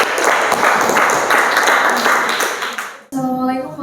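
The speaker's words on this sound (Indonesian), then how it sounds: "Tepuk tangan untuk kelompok 5" Classroom applause for a student group in a mathematics lesson, a dense burst of clapping that fills about three seconds, then cuts off abruptly as a voice begins speaking.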